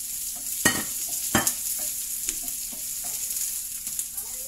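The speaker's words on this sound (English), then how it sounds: "Medyo sunog na yung ating garlic, guys. At, ay, hindi naman siya sunog brown lang siya, dark brown. Next, ilalagay natin yung onion." Garlic and onion stir-frying in a pan for a sardine stir fry: a quiet steady sizzle with a few sharp scrapes and clinks of a utensil stirring.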